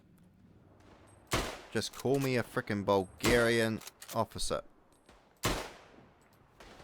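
Rifle shots crack out in the World War I shooter Tannenberg during a fort battle at Przemyśl, a few sharp reports breaking through as someone talks over the gameplay.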